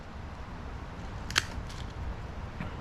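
A single crisp snip of a plant stem being cut under a leaf node to propagate a cutting, one brief click-like cut against faint background hiss.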